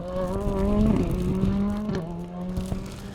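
R5 rally car running a special stage, its engine note holding a steady loud drone with a pitch shift midway, close and continuous with no talk.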